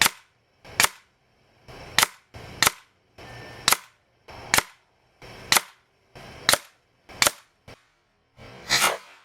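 An Umarex Notos air rifle fires about a dozen sharp, close cracks at a target, spaced irregularly with brief pauses between shots and no talking.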